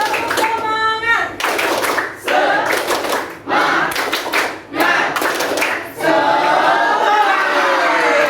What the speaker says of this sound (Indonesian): Satu, dua, tiga. Tepuk semangat.